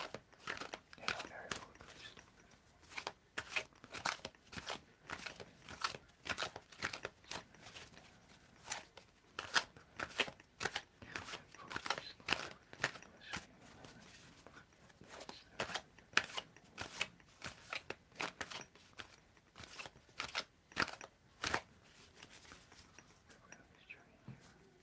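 Tarot cards being shuffled by hand: repeated soft riffling and flicking bursts in an irregular rhythm, close and quiet, with faint whispered speech now and then.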